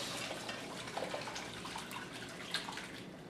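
Stock poured through a regular colander or small mesh strainer, a steady soft splashing stream of liquid with a few faint drips, close and without talk.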